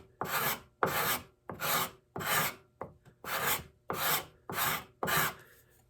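A hand tool planes very thin shavings from a short piece of wood in eight crisp, evenly spaced strokes, each a bright rasping swish close by with short silent gaps between.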